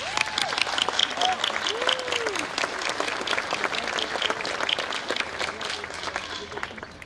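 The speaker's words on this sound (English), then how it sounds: "Please join me in giving them a round of applause for supporting you, our graduates." Sustained applause from a commencement audience at Three Rivers Community College, honoring graduates' family and friends; dense steady clapping fills the hall throughout, with voices and cheers mixed in.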